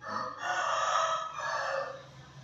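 A captive Vietnamese dove coos in a short, close phrase of a few tonal notes, clear and fairly quiet, with nothing else heard around it.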